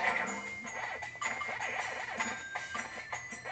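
Brassy, trumpet-like synthesized music from the GameCube game Pac-Man World 2, with bright repeating melodic phrases, steady and fairly close, no voices.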